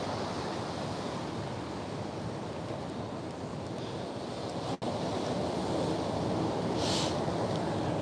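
Steady, loud wind buffets the microphone on a cold day outdoors, a continuous roaring rush like surf with one brief dropout midway.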